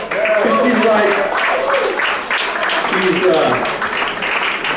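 Audience applause and cheering for a volunteer after a card trick at a live magic show, a dense, steady wash of clapping lasting several seconds with voices and excited exclamations mixed in.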